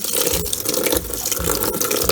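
A Kenmore laundry center washer fills with cold rinse water, a steady loud rushing gush of water pouring into the drum close by and running without a break.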